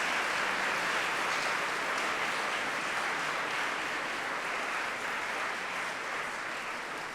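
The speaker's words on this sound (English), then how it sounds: "give them a round of applause for the support they've given you for the last 3 years" A large graduation ceremony audience claps steadily and densely for the full stretch, a loud, continuous wash of applause with no talk, fading slightly toward the end.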